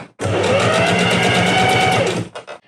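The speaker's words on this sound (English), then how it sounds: "I'm just going to try to stitch through the exact same stitch line." A sewing machine runs steadily for about two seconds, stitching an elastic pin hem with a fast even hum, then stops with a few faint clicks afterward.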